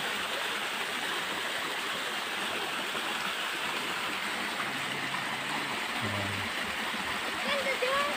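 Steady broadband rush of river water flowing over a shallow riverbed, continuous and fairly close throughout, with a brief low hum near the end and no talking.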